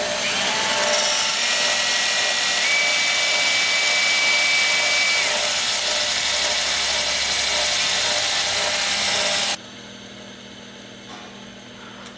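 A bench grinder shapes a tungsten electrode for TIG welding, a loud continuous high whirring whine that holds steady for about nine seconds, then cuts off abruptly, leaving quiet room tone.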